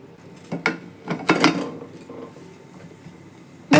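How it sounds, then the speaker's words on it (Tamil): A metal lid and weight go onto a pressure cooker holding ridge gourd kadaiyal: a few sharp clanks and knocks spread across a few seconds, ending in a louder close metallic clatter. "மூடி போட்டு வெயிட் போட்டுக்கலாம்."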